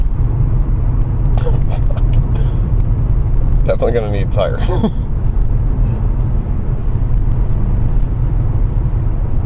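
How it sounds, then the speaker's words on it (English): Whipple supercharged Whipple SS car engine driving on the road, a loud steady rumble that continues under a man's speech. "Supercharger. It's not crazy loud, but it is loud."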